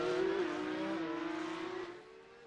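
Several Porsche race cars in iRacing at the Miami street circuit of the Pagnian Porsche Cup roar past at a steady high pitch, engine note shifting slightly as they run close together, loud and continuous before easing off near the end.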